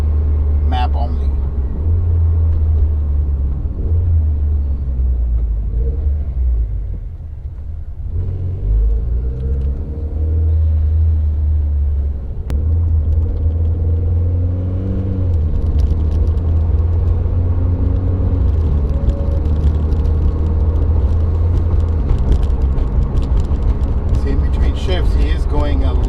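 A Mitsubishi Evo X MR engine runs on a dyno, a loud low rumble that drops, then climbs through rising revs in sweeps; someone talks over it.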